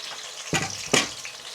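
Chopped onion with garlic and ginger paste frying in a pan for a broiler chicken curry, a soft steady sizzle with two brief louder stirring scrapes, close and fairly quiet, no talk.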